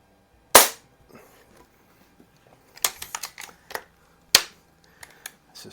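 Two sharp cracks from a Walther LGR .177 air rifle fired at a range, each a single loud snap spaced a few seconds apart, with lighter clicks and handling noises in between.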